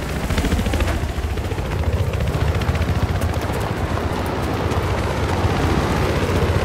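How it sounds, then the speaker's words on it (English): Enemy helicopter in the Battlefield 3 Conquest match on the Gulf of Oman map, a continuous loud rotor roar mixed with rapid bursts of gunfire and explosive rumble, with no speech. "Enemy helicopter spotted."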